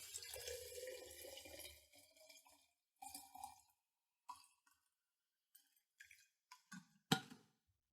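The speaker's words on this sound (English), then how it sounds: "I fill it with water." Water poured into a glass jar holding tea to make sun tea, a steady stream for about two seconds, followed by sparse drips, clinks and small handling sounds against the glass.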